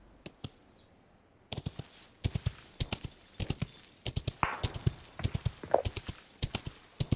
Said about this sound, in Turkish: Aa ayak sesi duydum ben.